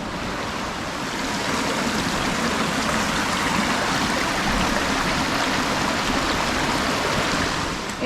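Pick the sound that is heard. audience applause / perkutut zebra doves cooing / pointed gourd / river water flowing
river water flowing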